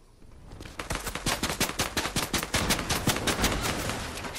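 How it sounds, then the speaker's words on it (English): Dense, rapid bursts of gunfire from the video game Fortnite, a steady rattling string of loud close shots running continuously with no pauses. "I'll put some shots on him."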